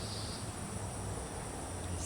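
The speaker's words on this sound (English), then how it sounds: "Still a few cicadas around here." Cicadas on a summer evening give a faint, continuous high buzzing drone that holds steady throughout, distant and alone with no voices.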